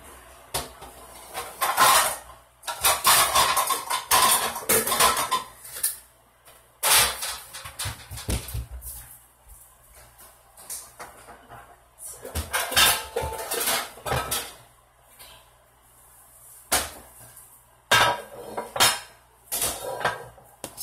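Metal pots, pans and cutlery clatter and clank in a home kitchen as a pan is readied, in bursts of busy rattling separated by quieter pauses, close and fairly loud.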